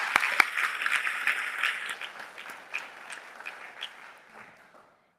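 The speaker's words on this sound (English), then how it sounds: "I think we deserve a hand clap for this proclamation." Audience applause for an approved proclamation at a school board meeting: a room of people clap in a steady wash with a few sharper near claps, gradually thinning and fading out before a sudden sound at the end.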